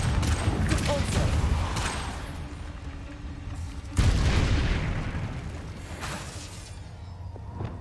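Spell effects from a video game fight against goblins: a Confringo fire blast and a Repulsor force spell, heard as a dense string of booming, gunfire-like bursts with a sharp new blast about halfway through.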